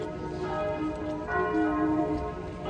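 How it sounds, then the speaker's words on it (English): Church bells ring out across a Paris neighborhood, overlapping resonant tolls at moderate distance that swell and linger, with no talking over them. "We got some church bells in this neighborhood."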